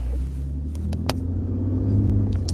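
Truck rolling by on the road, heard as a steady, loud low engine rumble and tyre drone that holds throughout, with a few brief higher clicks and knocks over it and no talking.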